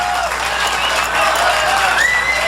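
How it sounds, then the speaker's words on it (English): Audience applause and crowd noise fill a televised World Poker Tour event as a player claps for himself, a steady dense wash of clapping close up, heard alone. "Frankie O'Dell clapping for himself."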